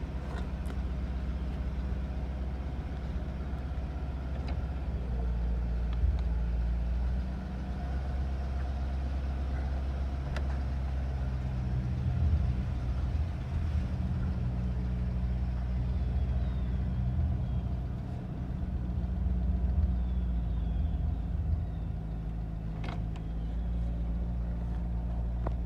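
A 1952 Buick engine idles steadily after its first start in 26 years, a continuous low rumble close by with no talk over it.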